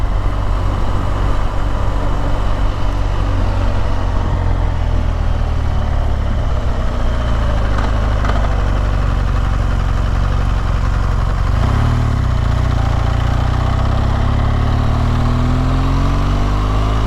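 A BMW GS 1200 motorcycle engine runs steadily while riding, a loud continuous low rumble with a rising pitch sweep near the end and no talk.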